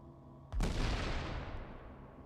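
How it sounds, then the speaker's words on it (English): A grenade detonates in The Division on PC with a sudden loud boom that rolls into a long, decaying rumble over steady background game noise. "He actually just ricocheted the grenade off the wall."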